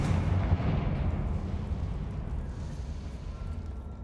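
A fiery Confringo spell blast in the Hogwarts Legacy video game, a loud rumbling burst that fills the moment and slowly fades into a softer roar.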